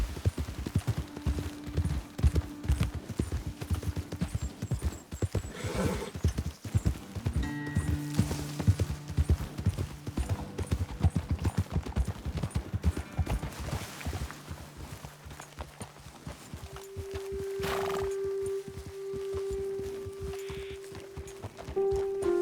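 Horses' hooves clip-clopping during riding in the video game Red Dead Redemption, a fast, rhythmic stream of hoof beats that continues for most of the stretch, with tonal game sounds in the background and the hooves fading into softer steps near the end.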